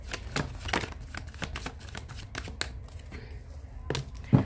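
A deck of tarot cards being shuffled by hand, a run of quick papery riffles and flicks close by, fairly soft, ending with a slightly louder tap.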